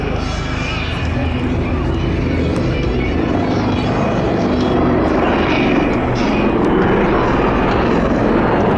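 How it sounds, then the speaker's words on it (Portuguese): Portuguese Navy Westland Lynx MK95 helicopter at the Oeiras Air Show, a loud, close, continuous rotor and turbine roar with steady low thudding that swells slightly toward the end, with a voice speaking over it. "Segunda parte da demonstração com os helicópteros e a performance que se espera acontecer no cruzamento."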